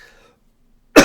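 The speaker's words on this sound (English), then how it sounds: "Now I'm going to start coughing." After near silence, a single sharp, close cough bursts out at the very end.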